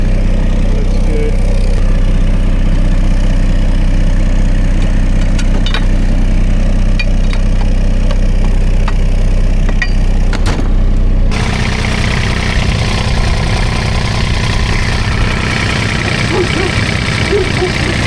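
Diesel engine of a Kubota RTV X900 utility vehicle idling close by, a steady loud rumble that shifts in tone partway through and runs alone without talk.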